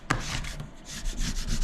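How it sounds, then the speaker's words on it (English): Hand rubbing the back of a large vinyl decal, a soft continuous scrubbing friction sound that starts with a brief tap and continues in close, steady strokes, with no talking. "Now before I flip it over, I will just rub the back of it."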